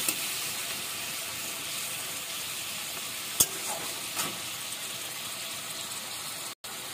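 Pumpkin and potato cook in a pan just after a little water is added, giving a steady close hiss and sizzle of steaming liquid, broken by a couple of faint clinks.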